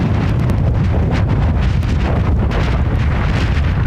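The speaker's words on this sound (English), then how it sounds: "It's wet and windy and blustery." Wind and rain at London Heathrow Airport, steady roaring buffeting gusts hitting the microphone in a loud continuous rumble with no talk.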